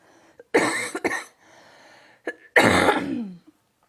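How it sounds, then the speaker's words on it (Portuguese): Several harsh coughs close to the microphone: a double cough, a pause, a brief throat catch, then a longer rasping cough. "Desculpem as tosse."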